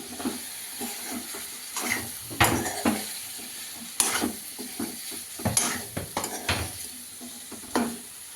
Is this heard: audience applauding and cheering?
no